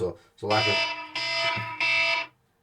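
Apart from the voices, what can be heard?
alarm going off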